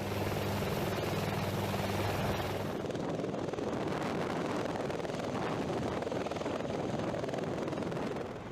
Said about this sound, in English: The helicopter hovers above the drop zone